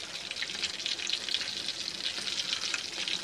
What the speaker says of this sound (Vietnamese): tại vì cái dầu nó bắn quá trời luôn mọi người